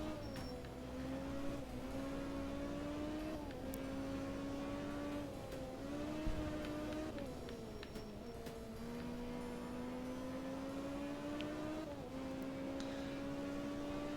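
A Group B rally car in the art of rally video game snarls through a foggy stage, its engine tone climbing and dropping sharply with repeated gear shifts and braking, steady and loud throughout.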